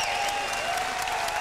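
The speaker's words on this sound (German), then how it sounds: "Wir lassen den Applaus natürlich erst noch ein bisschen, den wohlverdienten Applaus verhallen" An arena crowd applauds after the Sven Ottke vs Charles Brewer boxing world title fight, producing a sustained, dense wash of clapping and cheering that stays loud and even throughout.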